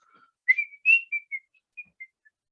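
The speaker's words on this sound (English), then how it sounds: "Somebody is learning in the room and you deciding to whistle now." A person whistles indoors in a short, wavering melodic phrase, loud at first and then fading into a few brief, quieter tones, with no other sound around it.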